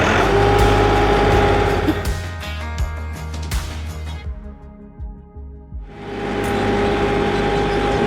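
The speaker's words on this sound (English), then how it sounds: "I can't hear you over the tractor noise." Loud mechanical tractor engine noise rumbles and clatters, dropping away briefly in the middle before the steady machine drone returns close by.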